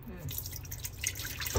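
Water is poured into a pot for pressure cooking, a faint, brief trickle with small splashes and drips, heard close and quiet.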